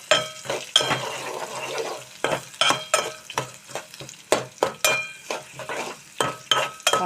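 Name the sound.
onions frying in a pan for okra curry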